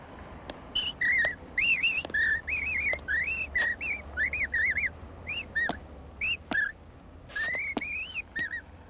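A person whistles an imitation of an Indian nightingale's song: a series of short, bright, chirping phrases with rising and falling slurs, separated by brief pauses, close and clear against a faint low hum.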